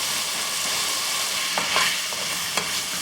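Carrots, beans and potatoes sprinkled with turmeric sizzle steadily in a hot pan, with a few light scrapes of a stirring spoon and no voices.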